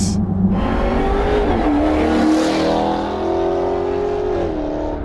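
A 2015 Dodge Charger Hellcat's supercharged engine rises and shifts through gears while driving, loud and close, a steady strong roar with climbing revs and a faint whine, no talking.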